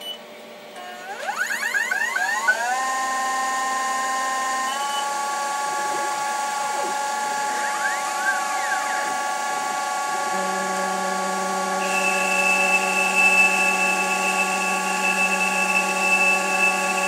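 A Denford Orac CNC lathe turning a V8 cylinder gives a steady, loud tonal whine that steps up in pitch and holds at several speeds, with cutting noise layered beneath and no talking.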